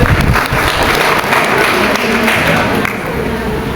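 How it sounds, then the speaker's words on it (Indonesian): Loud, dense applause from a large audience, close and sustained, tapering slightly toward the end. "Sekali lagi beri tepuk tangan untuk Bunda Kasihan."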